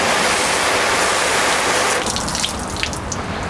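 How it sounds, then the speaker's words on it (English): Water sprayed in a steady hiss across a freshly prepped, coated car panel with an uncoated control strip, tested while comparing IGL Premier and Gtechniq C2V3 ceramic coatings; close and continuous, easing slightly after two seconds, no talking. "Put some water on it."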